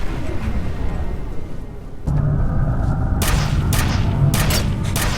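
Gunfire from a pistol, shotgun and nail gun in the video game F.E.A.R.: a dense rumbling roar of combat with booming low thuds and several sharp, bright shot bursts in the second half, no talking.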